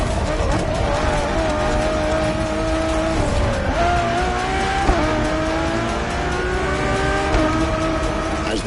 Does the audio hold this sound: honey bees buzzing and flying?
no